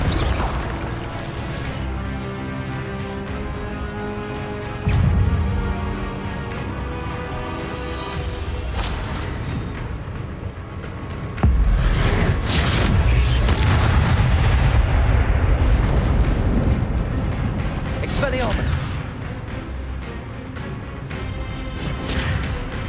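Spell impacts and explosions crash and boom in Hogwarts Legacy combat, a dense, loud run of blasts and rumbling hits coming in waves, with heavier bursts around the middle.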